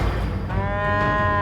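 A water buffalo calf trapped in a culvert gives one drawn-out, moderately faint moo over low background noise.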